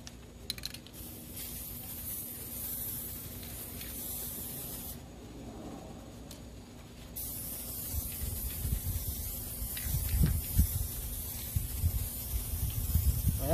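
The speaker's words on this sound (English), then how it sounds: "I'm just going to spray these guys down to the MDF" Spray can hissing steadily up close as templates are sprayed down onto MDF for an arcade control panel build, with a stronger sustained burst midway and rubbing, handling noises growing toward the end.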